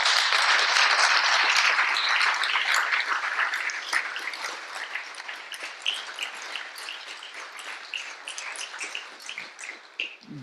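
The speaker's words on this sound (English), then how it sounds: "I think we should give them a round of applause." An audience at a scientific conference claps as a sustained round of applause, loud at first and then tapering into scattered claps over about ten seconds, with no talking.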